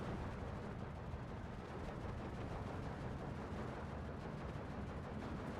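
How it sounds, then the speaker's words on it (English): Dense, continuous barrage of machine gun and artillery fire in the WWII strategy game Steel Division II, loud and unbroken for several seconds with no voices. "And now we're just attacking with machine gun."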